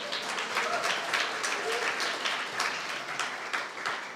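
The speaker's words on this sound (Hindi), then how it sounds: "इतनी कमजोर ताली बजा रही कि आप पता नहीं कहां तक।" An audience applauds in a church during a sermon. The clapping is fairly steady and moderately loud throughout, with a little background voice mixed in.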